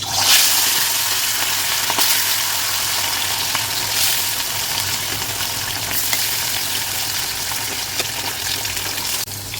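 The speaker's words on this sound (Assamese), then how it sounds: "তেলখিনি গৰম হোৱাত এতিয়া মই মাছ দিছোঁ" Fish slid into hot oil in a wok for an Assamese fish curry with pui greens, giving a loud, continuous crackling sizzle that stays strong and steady, with a few brief bursts of louder spattering.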